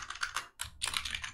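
Computer keyboard typed on in quick, close bursts of key clicks while code is entered, with a brief pause midway.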